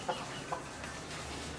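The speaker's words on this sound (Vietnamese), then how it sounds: "Gà đâu đẹp thế?" A chicken clucks twice in quick succession, short and fairly close, over faint outdoor background noise.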